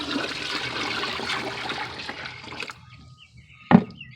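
A second gallon of water is poured into a four-gallon bucket of fermenting animal feed, a steady close gush that tapers to a trickle, then stops, followed by one sharp knock.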